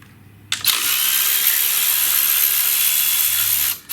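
A power tool runs in one continuous, fairly loud burst of whirring for about three seconds while removing a 10mm bolt in a Chevy Cruze engine bay, starting abruptly and stopping just as suddenly, with quiet shop background before and after.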